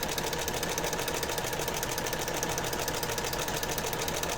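A sewing machine stitches a fabric journal cover in a rapid, steady mechanical whir that runs continuously and up close, with no pauses.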